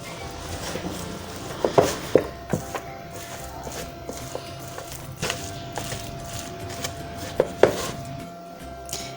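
Potato hash brown batter with a cheese slice is stirred in a bowl by hand, giving scattered close scrapes and sharp utensil knocks against the bowl at an irregular pace.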